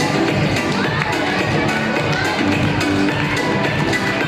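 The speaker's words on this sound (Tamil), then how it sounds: "எல்லாம் கிளாப் பண்ணி சத்தமா போதாது" A crowd at a children's church festival prize-giving claps and cheers in a continuous loud wash, with children's voices and some talk blended in.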